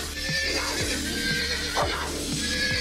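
A horse in an animal fight video game gives loud, shrill neighs and whinnies, mixed with repeated thudding hoof-like impacts and a constant game sound bed.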